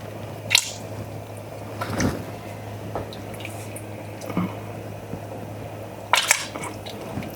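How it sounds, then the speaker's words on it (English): Wet squishing and squelching bursts as whole canned tomatoes are crushed by hand, at irregular intervals over a low steady hum, close by, with quiet drips between. "we're going to take them out and we're going to crush them"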